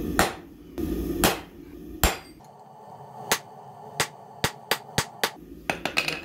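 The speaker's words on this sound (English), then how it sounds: "Half on, half off your anvil, on the edge, inside edge towards you and forge." A hammer forges steel stock on the edge of an anvil, half on and half off, while shaping box jaw tongs. A few heavy blows land early, then a quicker run of sharp, ringing strikes follows, loud and close.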